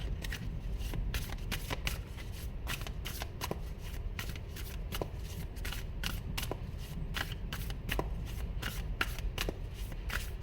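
A tarot card deck being shuffled in a long run of soft, rapid riffling flicks, close and fairly quiet, with no talking.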